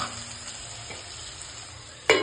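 Potatoes fry in a pan with salt while being stirred, making a low steady sizzle that ends with one sharp clack of the spoon against the pan.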